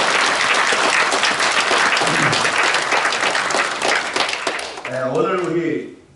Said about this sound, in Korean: 큰 박수 한번 청해드립니다